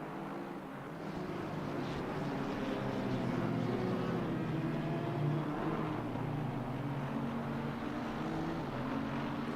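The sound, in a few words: Audi GT3 V10 engine in a racing video game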